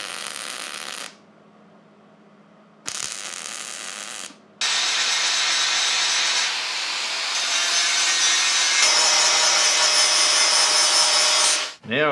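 Loud, harsh cutting and drilling on metal parts of a Series 1 Land Rover under restoration comes in bursts separated by brief pauses, then a long sustained stretch that winds down at the end.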